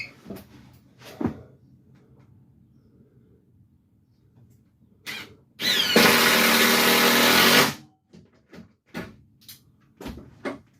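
A power driver sinks fasteners into the floor of a shuttle bus conversion, one loud, sustained whirring burst of about two seconds amid scattered clicks, knocks and handling sounds.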